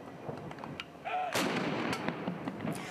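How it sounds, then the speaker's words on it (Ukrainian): A 21-gun artillery salute fired in Stockholm for a newborn royal, with a deep cannon boom and its rolling echo outdoors, heard at a distance under faint background noise. "На честь новонародженого у Стокгольмі дали урочистий салют – 21 постріл з гармат."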